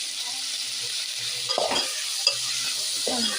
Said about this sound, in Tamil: இப்போ நல்லா தக்காளி வதங்கட்டும்